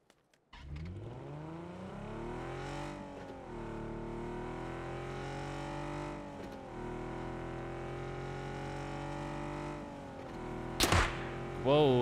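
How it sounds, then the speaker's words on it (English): Engine of a vehicle in PUBG on a solar island map, droning steadily and rising in pitch with each gear as it accelerates, then a sharp impact near the end. "Just got to take this vehicle and go for a joyride."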